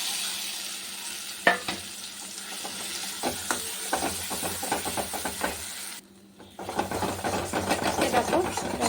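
Hot oil sizzles in a wok with intermittent clicks and scrapes of stirring, a brief near-silent gap, then a stronger surge of frying that builds toward the end.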